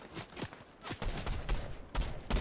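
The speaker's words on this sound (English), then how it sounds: "I hear some shots west" Gunfire in the Fortnite video game (Chapter 3, Season 3) rings out as a string of sharp, cracking shots spaced irregularly over a few seconds, moderately loud against steady game ambience.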